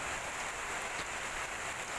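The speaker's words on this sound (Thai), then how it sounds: "โอ้โหฝนตกอีกแล้วครับผม" Steady rain pours down outdoors at a rural homestead, a dense continuous hiss of drops striking surfaces, fairly close and unbroken, with no voices.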